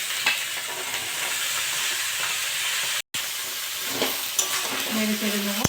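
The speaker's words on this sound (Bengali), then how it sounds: "আমি এবার বিটটা দিয়ে দেবো।" Beetroot frying in hot oil with onion and green chilli in a pan, a steady loud sizzle and hiss throughout with a brief gap, and faint scraping near the end.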